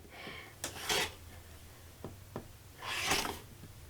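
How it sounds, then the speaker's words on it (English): Quilt block fabric edges are trimmed along a ruler, giving a few short, quiet cutting and rubbing strokes in bursts separated by pauses, close by with no talking. "I'm just going to lightly trim whatever sticks out."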